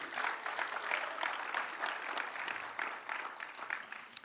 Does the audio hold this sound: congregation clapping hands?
yes